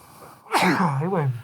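A single sharp human sneeze, close and loud, following a brief sharp inhale and trailing off into a breathy, voiced tail.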